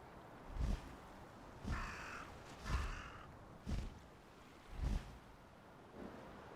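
Bird cawing from the video game Lucius III, five or six loud crow-like caws spaced about a second apart over a faint windy, surf-like background.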